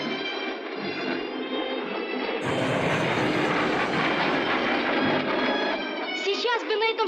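A jet aircraft in flight roars loudly and continuously with a broad, rushing whine that swells partway through, while a voice speaks briefly over it near the end.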